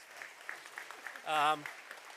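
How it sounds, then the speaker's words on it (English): Applause during a business leadership masterclass, soft scattered clapping from an audience, faint and somewhat distant, with a brief voice rising over it midway. "Round of applause for Brian and join in"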